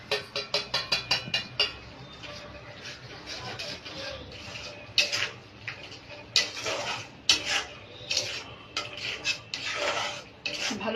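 Soybean with cumin, coriander, Kashmiri chili and dry chili powders and salt is stirred and fried in a pan, with bursts of metal scraping and clattering: rapid repeated strokes at first, then irregular scrapes.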